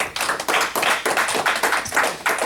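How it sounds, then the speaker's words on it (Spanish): A church congregation at a Spanish-language worship service claps in strong, rhythmic bursts that repeat about every half second. The clapping is loud and close, with no voices. "Démosle un fuerte aplauso al Señor"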